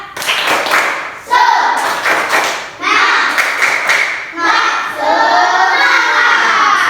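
Schoolchildren in a classroom perform a rhythmic spirit clap, several loud bursts of patterned hand claps in groups with short pauses between, their voices chanting along.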